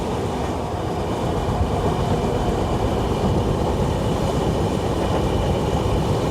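A moving train runs on rails near Kochi International Airport, a dense, steady, loud rumble and rattle of wheels heard from on board with no talk.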